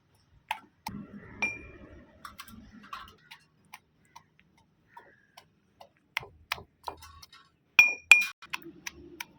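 Jujube fruits (kul) are crushed in a bowl, producing sparse, sharp taps and glassy clinks separated by quiet gaps, with a louder cluster of hard knocks toward the end.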